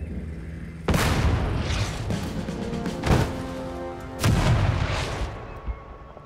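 Artillery fire in the WWII strategy game Total Tank Generals, set during Operation Bagration in 1944: a loud boom sets off a rumbling barrage, with further heavy blasts about two and three seconds later.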